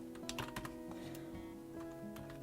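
Typing on a computer keyboard, a quick run of close, crisp key clicks in uneven bursts over a faint steady hum, with no one talking.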